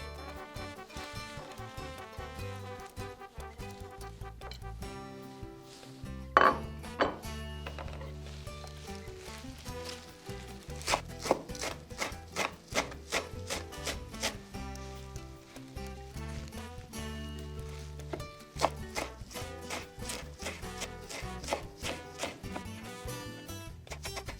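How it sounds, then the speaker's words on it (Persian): Knife chopping fresh herbs for stuffed belly fish makes quiet, rapid, irregular taps against a cutting board, close and continuing for the whole stretch with no voices. "سبزی ها رو خرد میکنیم"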